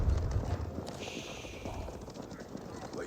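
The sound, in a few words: horse archers galloping in video game Age of Empires 4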